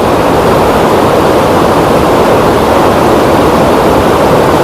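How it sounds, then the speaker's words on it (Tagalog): The Aklan River rushes past in a loud, close, unbroken roar of turbulent water, a dense even hiss with no pauses. "Itong Aklan River."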